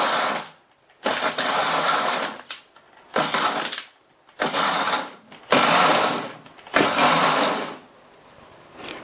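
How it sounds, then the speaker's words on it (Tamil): An electric juicer grinds black grapes in five short bursts separated by brief pauses, each a loud, close whirring motor roar that starts and stops abruptly. "நம்ம ஜூஸரை ஸ்பீடாக ஓட விடாமல் விட்டு விட்டு போட்டு அரைக்கணும்"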